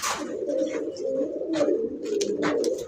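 Pigeons at a pigeon farm give low, throaty coos that overlap in a near, steady murmur, with a few sharper flutters and calls on top.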